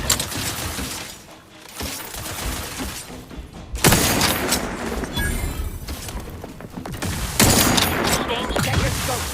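Sustained gunfire during a firefight in The Outer Worlds 2, with dense bursts and booms that rise in waves, dropping briefly then surging back loud over nearly ten seconds.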